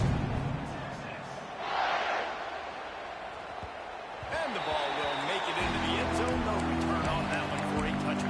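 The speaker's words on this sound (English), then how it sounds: "this crowd is buzzing after that last score." A football stadium crowd buzzing after a score, a broad distant roar swelling and settling, heard under a commentator's talk.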